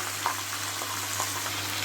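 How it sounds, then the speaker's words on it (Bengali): Mixed chopped vegetables frying in a pan with garlic and dried chilli for a red sauce pasta, a soft even sizzle with faint stirring scrapes, close and quiet with no voices. "সব সবজি ভাজা ভাজা করে নেব"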